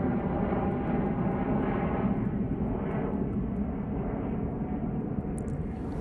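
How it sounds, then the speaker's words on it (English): A Pilatus PC-24 business jet departs Manchester Airport and turns north, giving a steady, loud broadband engine roar that holds evenly throughout, at a moderate distance, with no voices. "PC24, now turning to the north."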